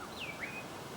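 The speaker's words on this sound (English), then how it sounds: "Hear what? Well, a bird." A single bird gives a short sliding whistle call, faint against quiet woodland air along the Box Vale Track near Nattai Gorge.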